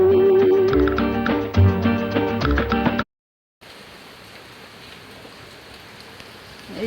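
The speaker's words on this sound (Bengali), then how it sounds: "এই রকম বৃষ্টি সারাদিন ধরে চলছে" Steady rain falls in a continuous soft hiss through the second half, after a few seconds of music and a brief silent gap.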